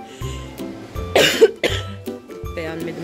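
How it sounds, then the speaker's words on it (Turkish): Several short coughs from a woman while shopping, irregularly spaced and close to the microphone, with a throat-clearing quality and a brief pause between bursts. "Ne rahat öksürüyorum değil mi?"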